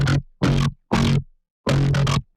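Synth bass patch run through a CM fuzz distortion effect, giving a gritty, buzzy tone, playing four short, loud notes with clean cutoffs and brief silences between them.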